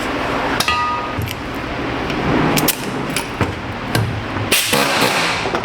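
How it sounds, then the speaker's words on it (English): A hammer chips heavy scaly rust off a metal part amid steady background noise, landing a few sharp, close metallic knocks and clinks at irregular intervals. "I'm actually gonna have to whack at that a little bit. Let me chip away some of that big scaly rust."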